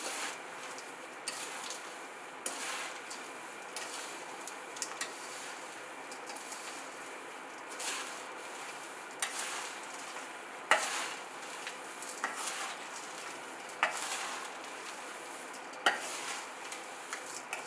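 Fried peanuts, coconut, cashews, almonds and raisins being stirred into rice poha chevdo in a pan, giving a steady dry rustling scrape with light clinks and soft sizzle, repeated stirring strokes throughout, no talking.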